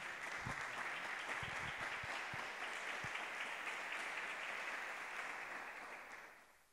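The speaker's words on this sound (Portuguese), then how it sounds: "Você pode aplaudir a Jesus Cristo por isso?" A church congregation applauds steadily, a full sustained roar of clapping that fades out toward the end.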